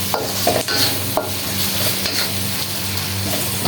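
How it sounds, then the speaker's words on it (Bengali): Onion frying in oil, with salt added, gives a loud, close, continuous sizzle broken by a few quick spatters and soft spoon scrapes. "তেলের ভিতরে পেঁয়াজ দিয়ে দিলাম"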